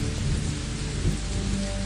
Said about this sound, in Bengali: বৃষ্টির গতি যেন আরো বাড়তে শুরু করলো।